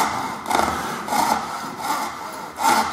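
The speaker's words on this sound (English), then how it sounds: "because I've set the blade on an angle, I can probably complete that cut almost in one go" Coping saw cutting timber with an angled blade in gentle back-and-forth strokes, a rhythmic rasping close by with about five strokes in under three seconds.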